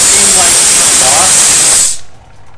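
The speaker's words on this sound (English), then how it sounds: "blow some water through this until we get the steam picked up" A MondoVap 2400 steam cleaner blows a loud, steady hiss of steam that cuts off abruptly near the end, leaving a quieter background.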